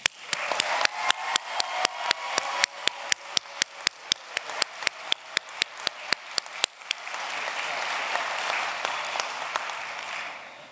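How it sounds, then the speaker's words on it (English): At a 2023 commencement ceremony, applause for biomedical informatics graduates starts as sharp, evenly spaced rhythmic claps close by for about seven seconds, then spreads into a broad, sustained crowd applause. "Please give our graduates a large round of applause."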